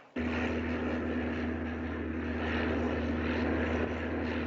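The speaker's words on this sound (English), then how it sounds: "Bring the plane in." Propeller airplane in flight drones steadily close by, a loud, constant engine hum with a low pulsing tone that starts abruptly and holds without letting up.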